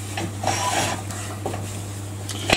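Skew chisel paring wood to seat a round hinge, a soft scraping rasp in short strokes over a steady low hum, ending in a small knock.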